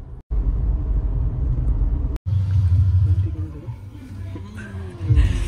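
Heavy road traffic on a congested street under road works rumbles low and continuously, with engine drone passing close by and a couple of brief dropouts.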